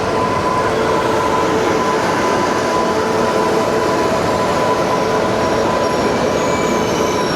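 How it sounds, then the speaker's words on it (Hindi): The Hubli–Bengaluru Express at a station platform gives a steady, loud rumble of rolling railcars with a faint squealing tone from the wheels, continuous throughout and without talk. "यहाँ पे आई हुबली बेंगलुरु एक्सप्रेस"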